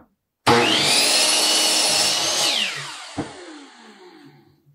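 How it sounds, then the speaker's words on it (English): A power sander works cedar fence pickets, starting abruptly as a loud, close whine that holds for about two seconds, then winds down with a brief knock as it slows to a fading hum. "Now we're going to sand these."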